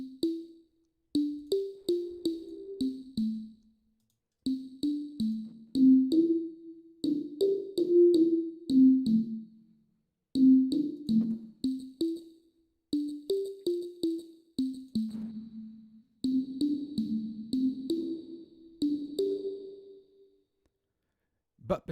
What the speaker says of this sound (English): You can also get bizarre and unusual artificial or experimental reverb sounds.